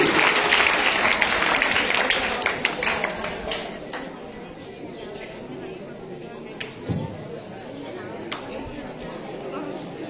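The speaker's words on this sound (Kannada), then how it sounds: "ಮಕ್ಕಳು ಚಪ್ಪಾಳೆ ಮೂಲಕ ಅವರನ್ನು ಸ್ವಾಗತ ಮಾಡಬೇಕು ಅಂತ ವಿನಂತಿ." A crowd of children applauds steadily at a retirement ceremony, with a dense patter of many hands clapping that gradually eases off, while voices carry faintly underneath.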